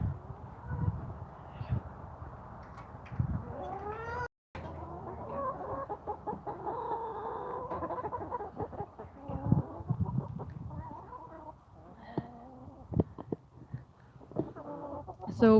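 Chickens outdoors at their coop clucking and squawking on and off, fairly close and moderately loud, with rising calls and a brief dropout partway through.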